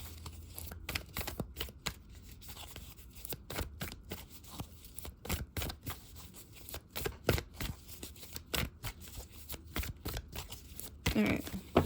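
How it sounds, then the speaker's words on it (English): Tarot cards being shuffled and handled at close range, a steady run of crisp riffling snaps and flicks lasting throughout, with a brief faint voice near the end. "I'm gonna pull one more card."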